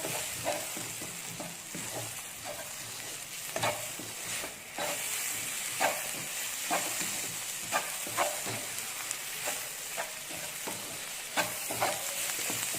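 Beef masala with chili powder sizzles in a pan while a spoon stirs it in regular scraping strokes, a continuous, close frying hiss punctuated by rhythmic clinks with no speech.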